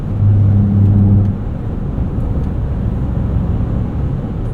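A 2025 Ford Expedition Max Platinum in sport mode with four-wheel drive auto runs over road rumble strips on a Kentucky back road: a loud, low droning buzz for about a second, then steady engine and tire roar.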